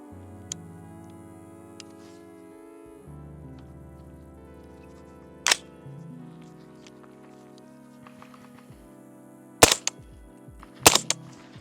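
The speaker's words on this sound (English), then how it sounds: "So now I'm about to shoot these subs and see what difference subs can make." A suppressed 300 Blackout rifle firing subsonic rounds, a few sharp muffled reports near the end, the last two in quick succession, over a quiet background hum.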